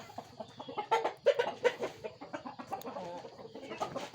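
Many young chickens cluck and peep close by in a busy, overlapping chorus that carries on steadily throughout.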